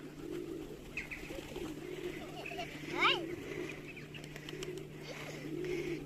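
Soft pigeon coos repeat every second or so, fairly close, over a quiet background hum.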